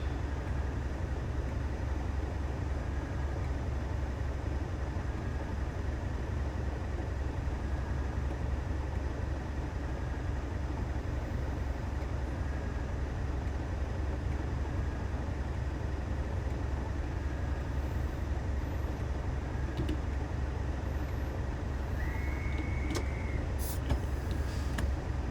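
A British Rail Class 37 diesel locomotive sits idling in neutral, a steady low rumble filling the cab for the whole stretch with no change in pace and a faint brief tone near the end.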